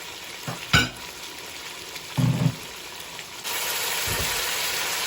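Mutton for pulao fries in a pot, a low sizzle with a few thumps of stirring, then a louder, steady hiss of frying that holds to the end, no voices.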